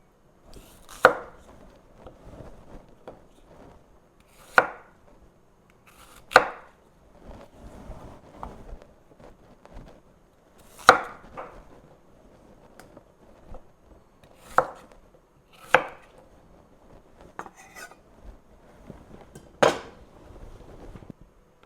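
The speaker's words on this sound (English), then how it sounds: "Okay, the potatoes have been diced." Potatoes diced with a knife: about nine sharp, separate chops at irregular intervals of a few seconds, close and crisp, with quiet stretches between and no talking.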